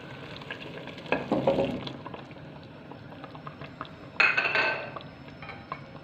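Peas go into a pan of chicken meatball tagine with pea sauce, bringing two bursts of sizzling and rustling, the second brighter and sharper, over a quiet cooking background with faint utensil clinks.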